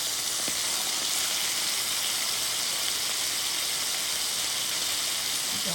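Turkey sausage patties sizzle steadily in a hot pan, a loud, even crackling hiss that runs unbroken from start to finish with no voices.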